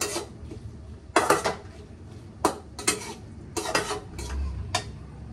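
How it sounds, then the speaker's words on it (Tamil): Brinjal pieces go into a pan of nethili fish curry and get stirred, with a series of distinct metallic scrapes and clanks of a spoon against the pan, spaced irregularly, with faint sizzling underneath. "கத்திரிக்காய் போட்டு கொஞ்சம் உல்ட்டா புல்ட்டா பண்ணுவோம் அப்படி"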